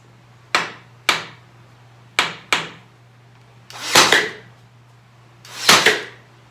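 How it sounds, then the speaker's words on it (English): A hammer taps a wooden garden trellis cross member into a tight groove: four crisp, separate knocks, then two heavier, ringing blows after short pauses, close up over a faint steady hum. "I'm going to have to give that a little tap with a hammer."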